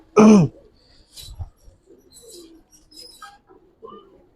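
A caged racer pigeon coos, one loud coo at the start followed by softer, scattered calls and rustling close by.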